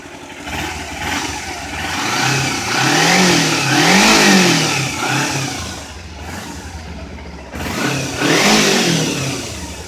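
A 2011 Kawasaki Ninja 250R motorcycle engine revs up and down repeatedly to about 6,000 RPM, rising to loud high-pitched peaks and falling back, close and with no voices.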